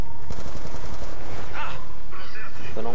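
Gunfire in Call of Duty Black Ops 2 Zombies on the Origins map, loud rapid bursts of shots crowding the mix, with other game effects layered in.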